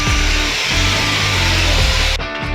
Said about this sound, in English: I think the grinder's gonna take this job.